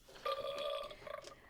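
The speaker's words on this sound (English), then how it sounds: "I did a massive burp" A man lets out a massive burp, a drawn-out guttural belch lasting over a second with a wavering, tonal quality, moderately loud and heard alone indoors.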